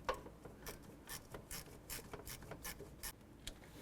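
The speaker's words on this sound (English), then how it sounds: "Behind here, there's an 8mm bolt. Let's go ahead and remove that" Ratchet wrench removing an 8mm bolt behind the intake of a Chevrolet Express van, a run of quick repeated clicking strokes, close and fairly quiet, with no talking.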